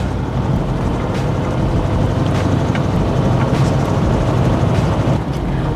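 A continuous engine drone with road and wind noise from a vintage Mercedes-Benz W108 sedan driving steadily along a mountain road, no one speaking.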